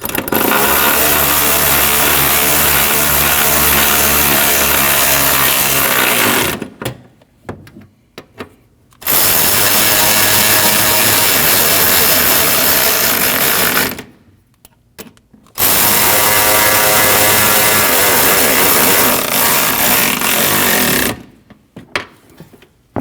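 A power tool runs in three long, loud bursts, each several seconds long with brief pauses between, while 10mm bolts are tightened on a 2013-2019 Ford Escape 1.5L radiator at the fender and bumper.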